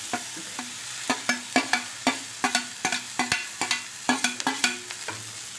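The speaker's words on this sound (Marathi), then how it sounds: "आता आपण चिरून घेतलेली शिमला मिरची घालूया यात" Chopped capsicum is stirred into a softened frying onion mixture for a Malvani-style capsicum dish, with a steady run of close spoon scrapes against the pan over a low sizzle and no talking.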